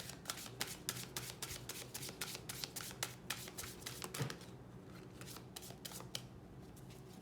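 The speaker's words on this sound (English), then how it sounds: "Last shuffle, then I take from the middle." A deck of Lenormand cards shuffled by hand at close range, a quick series of crisp riffling snaps and soft slides repeating in an uneven rhythm, fairly quiet with no talk over it.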